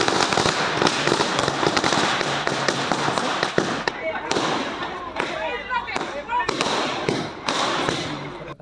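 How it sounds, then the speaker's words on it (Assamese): Firecrackers bursting at an Ahom wedding, rapid loud crackling volleys and sharp pops close by, with people talking throughout. "ফটকা ফুটাইছে, বহুত ফটকা ফুটাল"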